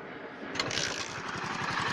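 A Hero 100cc motorcycle engine idles steadily during carburetor tuning, its RPM slightly raised after the fuel mixture was set. A continuous, fairly close, even mechanical drone with a fast low pulse runs alone throughout.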